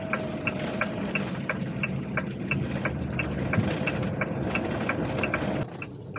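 A Fiat Ducato-based camper van takes a left turn at around 30-40 km/h, with a steady engine and road drone under a fast, regular mechanical ticking that runs through the turn and then eases slightly near the end.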